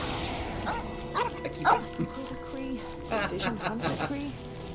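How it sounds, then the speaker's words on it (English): A puppy in Genshin Impact yelps and barks after being blasted with air, giving a few short yips over steady game music. "I don't think the puppy liked being blasted with air."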